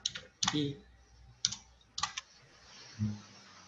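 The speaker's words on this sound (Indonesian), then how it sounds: "Ketika saya tekan tab di keyboard, nah, dia langsung ke sana" The Tab key on a computer keyboard is pressed in a few sharp, close clicks with brief pauses between them, alongside short bits of low voice.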